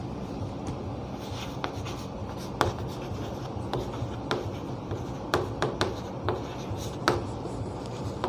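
Marker or chalk scratching across a board during a biology class, with short strokes and taps scattered irregularly over a steady room hiss, no voice present.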